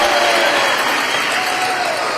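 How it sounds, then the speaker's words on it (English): A fired-up rally crowd in Savannah cheers and applauds, a loud, dense, continuous roar of clapping and shouting voices that holds steady throughout. "By the way, you want to see a fired up crowd?"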